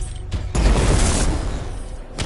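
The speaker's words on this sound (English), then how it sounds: "It'll be a contained explosion" A canister blows up in the game Anthem, a sudden heavy boom after a brief pause, then a loud rumbling roar that holds and slowly tapers.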